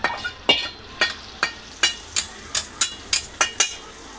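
A pan being stirred while frying, sharp regular scraping strokes about every half second over a low sizzle, close and fairly loud.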